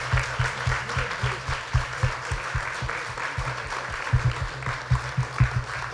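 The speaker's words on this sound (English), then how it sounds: "Let's give them a round of applause." A small audience at a Rizzoli bookstore book night claps for the panel speakers, moderate, somewhat sparse clapping with individual hand claps audible, continuing steadily for several seconds in a room.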